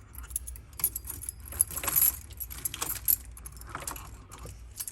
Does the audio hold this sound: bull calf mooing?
no